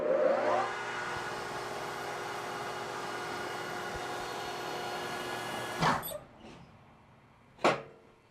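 A friction welding machine spins aluminum against brass with a steady high whir, then the brake engages, and two sharp loud clunks follow as it stops.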